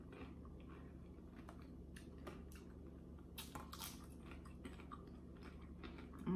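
Faint, close crunching and chewing of crunchy shell tacos, with irregular bites and mouth sounds over a steady low background hum.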